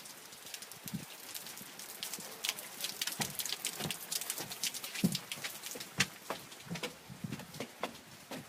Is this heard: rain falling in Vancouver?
yes